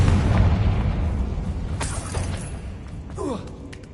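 A fire spell explosion from Confringo in Hogwarts Legacy: a heavy boom at the start that decays into a rumbling tail with crackling debris, close and loud.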